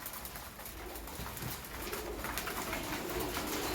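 Pigeons kept as breeders coo softly while eating feed mixed with liquid medicine, their calls steady and close amid a constant dense background wash, with no talking.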